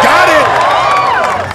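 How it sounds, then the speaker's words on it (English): A large crowd cheers and roars loudly and continuously at a Sasuke obstacle course event, a dense wall of shouting and whoops with an announcer's voice riding over it. "the crowd is loving it"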